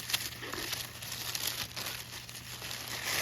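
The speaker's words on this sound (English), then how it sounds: "got a little bit of tape here, so just 1 second. I'm just gonna rip that open." Tape being ripped open on pink jewelry box packaging, a close crinkling, tearing rustle lasting a few seconds, fairly faint and without speech.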